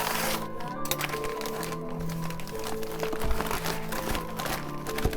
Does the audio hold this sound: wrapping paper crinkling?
yes